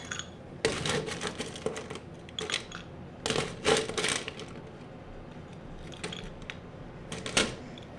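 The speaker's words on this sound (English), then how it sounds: "Fill the glass with ice." Ice cubes are dropped into a cocktail glass for a bourbon drink, with a series of sharp clinks and clattering bursts arriving in uneven clusters, fairly close and crisp.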